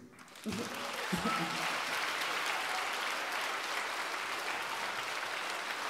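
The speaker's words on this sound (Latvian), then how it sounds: "Bērni, aplausi jums." An audience at a children's choir concert breaks into applause after a couple of short vocal sounds, a dense steady wash of clapping that holds evenly throughout.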